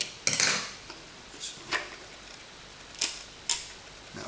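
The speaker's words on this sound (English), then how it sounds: "take your scissors and score around the skewer, leaving a couple of mil at the end" Scissors scoring and snapping a wooden skewer for a homemade toy car axle: a series of short, crisp clicks and snips, a sharper crack near the start then several separate light snaps spaced about half a second to a second apart, close and fairly quiet.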